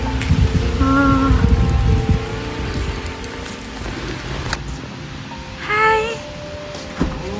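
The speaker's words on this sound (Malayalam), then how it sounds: "നല്ല അടിപൊളി മഴയാണ്, ഒരു രക്ഷയില്ല" Heavy rain pours down steadily, a dense wash of drops on surfaces, with a few faint tonal whistles and hums in the background and no talk.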